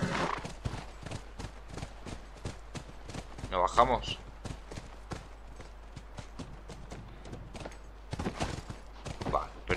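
Horse hooves clip-clop at a steady walking rhythm in The Last of Us, close and clear throughout, with a brief spoken exchange partway through.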